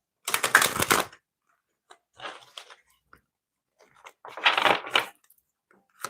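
Tarot cards shuffled by hand in bursts, a loud riffling crunch at the start, softer flicks in the middle and another strong riffle near the end, with quiet gaps between.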